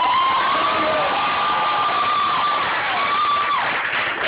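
An audience at a live show claps and cheers loudly and continuously, a dense crowd roar with whoops and a sustained high whistle over it.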